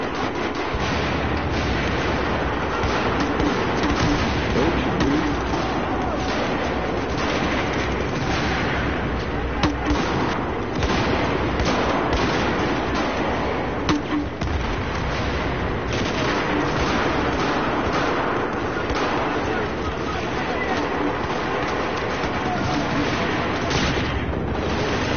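Battlefield 4 combat roars on without a break. Shotgun blasts and other gunfire pile into a dense, loud, continuous din with explosions mixed in, and voices can be heard underneath.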